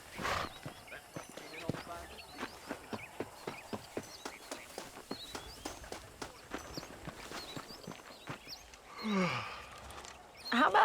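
Horse hooves clip-clopping in the Red Dead Redemption video game, a steady quick rhythm of hoofbeats over a western outdoor ambience, with a snort or whinny near the end.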